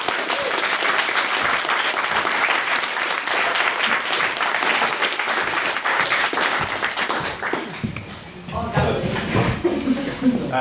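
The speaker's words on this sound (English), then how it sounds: "So we're applauding for both her and our guest chair." A debating-society audience at a motion on the British Empire applauds the guest chair with loud, sustained clapping that fades near the end as a voice begins speaking.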